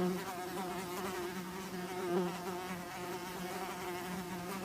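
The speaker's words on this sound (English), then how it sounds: "the amount of wasps that are around the rooftop terrace at the moment is making me very fucking nervous" Wasps buzzing around a rooftop terrace, a steady droning hum that swells slightly as insects pass close, continuous and fairly faint with no talking.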